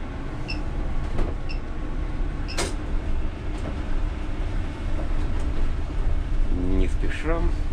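A UTTZ-6241.01 (MAZ-203T) trolleybus in Cheboksars pulls away at night, its steady electric drive hum and cabin rattles filling the interior, with brief clicks and people talking in the cabin.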